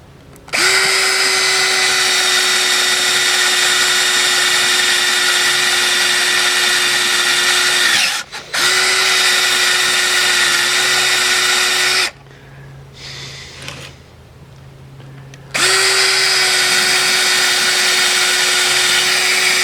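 A power drill whines loudly in long steady bursts into old weathered pine wood, stopping briefly between runs and pausing for a few seconds of quiet before starting again.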